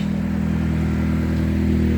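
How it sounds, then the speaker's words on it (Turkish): Motorcycle with a blown exhaust passing in busy street traffic in England, a steady loud low engine rumble with rough clattering texture, close and continuous throughout. "Bak adamın egzozu da patlamış."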